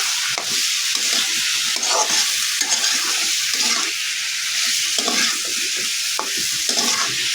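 Bottle gourd stems and potatoes stir-fry in a pan, a steady close sizzle broken by repeated scraping strokes of a spatula with no voices.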